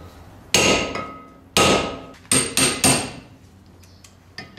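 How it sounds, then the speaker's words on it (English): Sharp metallic hammer strikes ringing out on metal while knocking loose brake rotor screws: two single blows, then three quick ones, loud and close, with ringing decay between hits. "it's the two hammer method"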